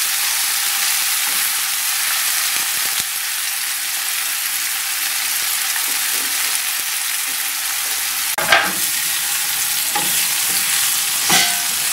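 Small mola fish fry in oil with onion and green chilli, a loud continuous sizzle broken by a few sharp scraping stirs of the spatula.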